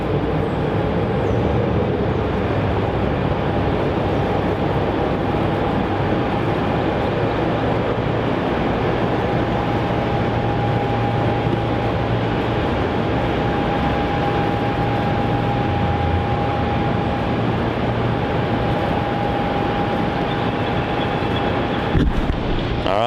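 A passenger airplane takes off from runway 27 at Melbourne Airport, a loud continuous engine roar with a steady whining tone that holds for the whole stretch, heard from a distance outdoors.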